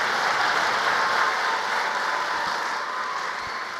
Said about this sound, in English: Let's give a big applause to Cal Nathan